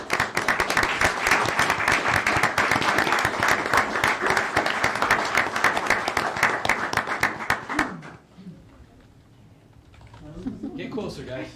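Audience applause at a city council meeting in Gaithersburg, dense and sustained for about eight seconds before fading into low room noise and scattered voices.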